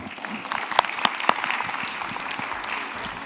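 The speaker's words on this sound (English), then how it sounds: "So please, let's clap hands again" After a data science presentation, a modest audience claps, the applause moderate and somewhat sparse, with a few sharp, distinct claps standing out near the start.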